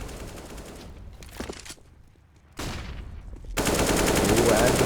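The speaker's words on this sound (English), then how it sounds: "And the wall bang coming in from KOTK" Bursts of rapid gunfire from a wall bang shot in the video game CS:GO, loud clustered volleys separated by short gaps, ending in a sustained dense barrage.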